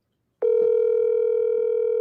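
After a moment of silence a telephone dial tone starts abruptly once the call is hung up, holding a steady, loud, unbroken hum to the end.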